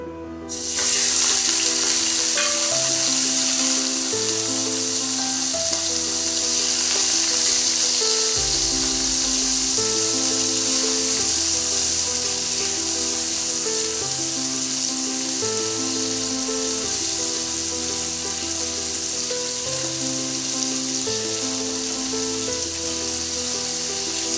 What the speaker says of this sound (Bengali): তেল গরম হয়ে গেছে, চিংড়ি মাছ দিয়ে দেব।